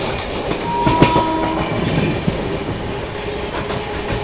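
Shiv Ganga Superfast Express, 12559 from Banaras to New Delhi, overtaking the Avadh Express: a steady loud rumble of rail travel heard from aboard, with a few clicks and knocks of wheels on the track.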